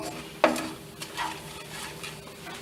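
A soft sizzle of ajwain (carom) seeds frying in hot oil over a medium flame, with a sharp crackle near the start and light stirring scrapes, close and fairly quiet.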